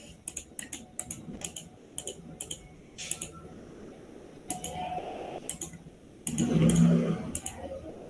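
Computer keyboard clicks while drafting in AutoCAD, including the Enter key pressed twice: a steady run of sharp, close key taps, with a fuller, louder clatter of keystrokes near the end and no voices.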